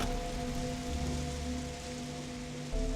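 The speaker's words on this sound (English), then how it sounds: "let's get out of the rain" Steady rainfall in a video game, a constant close hiss of drops over a low droning tone, with no voices.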